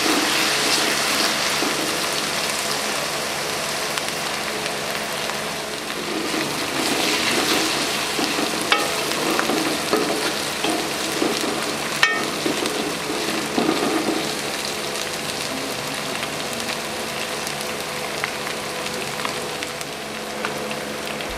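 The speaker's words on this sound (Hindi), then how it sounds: "अच्छे तरीके से फ्राई करेंगे।" Ginger and garlic frying in a pan with onion for a dhaba-style chana dal, a constant dense sizzle and crackle, close and loud throughout.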